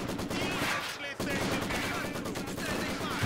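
Infantry support guns firing in Company of Heroes 2, a loud, dense barrage of overlapping gunshots and machine-gun bursts with one brief gap, then the sustained firing resumes.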